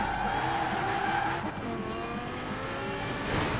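A car drifting in the Forza Horizon 4 video game, with its tires squealing in long sliding tones over a steady engine roar, loud and close throughout.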